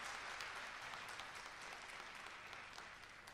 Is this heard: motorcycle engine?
no